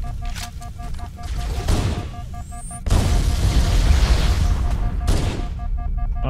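Gunfire and explosions from Halo: Combat Evolved Anniversary in co-op play, loud and dense with bursts and booms throughout, swelling into a heavy barrage partway through.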